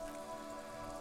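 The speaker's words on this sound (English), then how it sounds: "Rain falls onto the roof of a woodshed." Rain falls steadily on a woodshed roof in the video game Disco Elysium, a soft, even patter with no other sounds.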